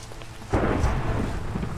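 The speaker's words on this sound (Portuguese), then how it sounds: "essa é a primeira vez que chove com trovão aqui em Utopia" Thunder breaks over steady rain in the Utopia game world, a sudden rumbling roll that swells and then lingers under the continuous hiss of rainfall, with no voices.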